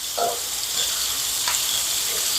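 Steaks with the fat left on frying in a pan, a steady, bright sizzle that hisses evenly throughout, up close and alone, with a couple of faint clinks.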